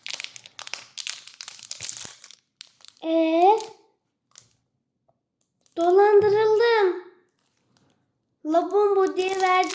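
A Labubu-themed chocolate wrapper crinkles and crackles close up for about three seconds, then someone speaks in short bursts with quiet gaps between.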